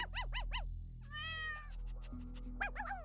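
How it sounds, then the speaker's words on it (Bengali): Several cats meow in quick succession, a run of short rising-falling cries at the start, a drawn-out wavering call in the middle, and more meows near the end, close and fairly loud over a low steady hum. "কিছুক্ষণ পরই সেখানে সমস্ত কুকুর বিড়াল ছুটে চলে আসে আর ডাকতে থাকে।"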